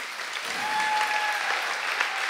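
Concert audience applauding steadily after a performance, a dense, even wash of clapping that fills the space at full strength throughout, with faint tonal whistles or cheers cutting through.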